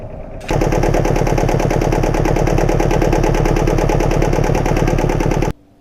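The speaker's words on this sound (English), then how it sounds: "I'll just run the engine for 20 minutes and we'll see." A GM2 diesel engine runs steadily, a loud, close, rapid mechanical chugging that starts abruptly, holds an even rhythm for about five seconds, then cuts off.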